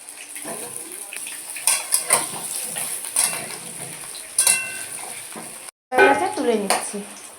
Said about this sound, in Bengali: দিলাম প্রথমে আলুগুলোকে ভেজে নেব।